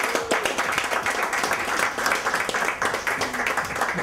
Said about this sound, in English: Mike Morello and Jackie, give them a round of applause for all the hard work.